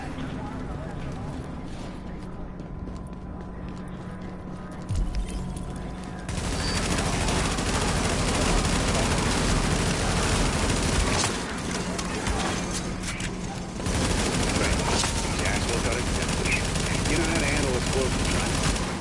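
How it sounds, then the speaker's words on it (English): Dense bursts of rapid gunfire in The Division video game rattle on and off, with loud sustained stretches and brief lulls, mixed with background effects and voices. "We got gunfire at the front gate."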